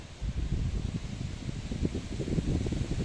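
Gusty wind buffets and rustles steadily at sunrise near Mullayanagiri Peak, a dense low roar with fluttering bursts, like strong wind hitting the microphone outdoors.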